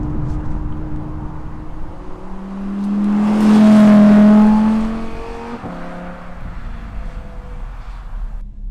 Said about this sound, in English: the Audi R8 V10 Coupe, the performance version as well